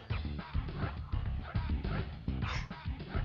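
A giant dog barks repeatedly in the Lego Island video game, short loud woofs in an irregular rhythm over layered game music and effects.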